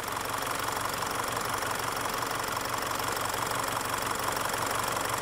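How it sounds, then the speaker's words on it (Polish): The two-litre diesel engine of a Jaguar XF Sportbrake idles with a steady, loud, clattering knock. It is heard close up and alone, with no voices. "Stać i zachwycać się dieslem dwulitrowym"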